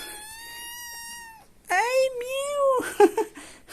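A small kitten meows in a few high, tonal calls close by, a long drawn-out cry followed by shorter rising mews, in a quiet room with no other voices.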